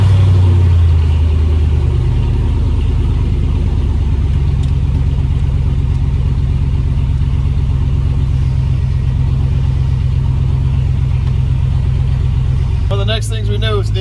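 A Chevrolet Silverado pickup's engine, started up during a dash replacement, rumbles loud and close at a steady idle, with a brief rattling burst near the end.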